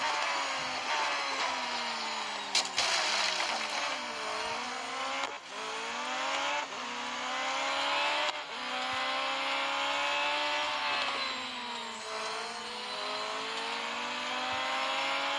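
A Radical race car engine in the mobile racing game Real Racing 3 revs and strains for a long stretch, pitch climbing and dropping with gear changes and brief tire squeals, loud and steady with no voices.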